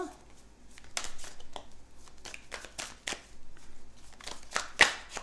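Tarot cards are shuffled and drawn by hand at close range, soft papery flicks and slides coming in irregular clusters, quiet overall with one sharper snap near the end.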